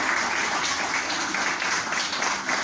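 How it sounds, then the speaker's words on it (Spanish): Steady applause from a church congregation fills the room, even and continuous throughout the short stretch. "Así que den un aplauso al pastor Gabriel"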